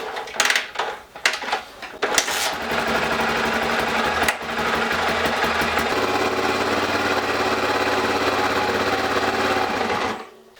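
A Honda XR250 motorcycle engine idles nearby, a rapid steady chatter that settles into an even run for several seconds before cutting off, with a few clunks and handling noises at the start.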